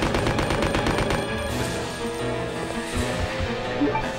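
Gunfire in the video game Resident Evil Code Veronica X, with rapid repeated shots in a quick burst at first that then fade into quieter game ambience.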